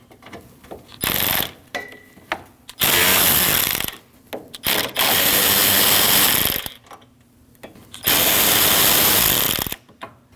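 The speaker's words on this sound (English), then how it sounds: "Your latch is held on by 3 10mm bolts. You need to remove all 3 of those." A ratchet backs out the 10mm bolts holding the hood latch on a 2012–2016 Honda CR-V 2.4L, in three loud close bursts of rapid clicking, separated by short quiet gaps.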